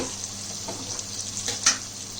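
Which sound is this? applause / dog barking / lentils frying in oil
lentils frying in oil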